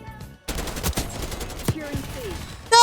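Rapid automatic gunfire crackles in a video game, a dense burst of shots followed by scattered single reports and a final loud burst at the end.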